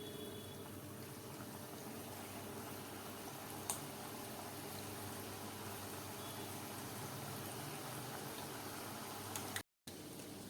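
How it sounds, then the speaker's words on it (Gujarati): Sweet potato dahi vadas fry in hot oil with a soft, steady sizzle and bubbling that runs evenly throughout. One brief click stands out partway through, and there is a short dropout near the end. "બાકીના દહીંવડા પણ આપણે તળવા માટે"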